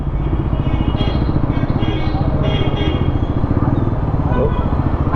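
A Bajaj Pulsar NS 400Z motorcycle engine thrums with a steady, rapid beat while riding, loud and close amid wind noise, with a rider talking over it.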